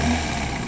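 A 2011 Kia Morning's 1.1-litre four-cylinder petrol engine idles steadily, heard close from the open engine bay as an even, smooth hum with no speech over it.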